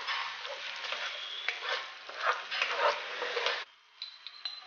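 Chicken curry being stirred in a pan on low flame, with steady scraping and sizzling for most of the clip, then a sudden drop to quieter, sparse clinks near the end.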